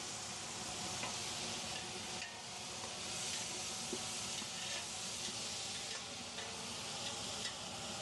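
Vegetables added and sautéed in a large batch of pulao for 40-50 people, a soft continuous sizzle and hiss with faint occasional stirring clicks, steady and moderately quiet throughout.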